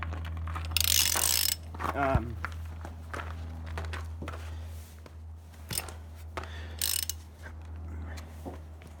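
A ratchet wrench clicks in quick bursts as wheel lug nuts are tightened on a car just lowered to the ground, mixed with metallic clanks, shuffling steps and a low steady hum, close and fairly clear.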